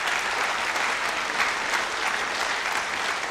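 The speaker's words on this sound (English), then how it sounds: "let's give them one more round of applause." Applause at a high school scholarship awards ceremony, a full room of hands clapping in a steady, dense wash that stays loud and even for the whole moment.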